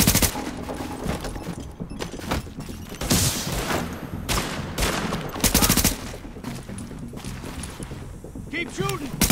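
Sustained gunfire in The Division, a loud fusillade of rapid automatic bursts and sharp shots with occasional heavy thumps, dense and close, with brief gaps between volleys and a voice shouting over it.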